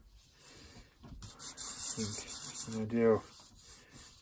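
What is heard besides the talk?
sanding block sanding wood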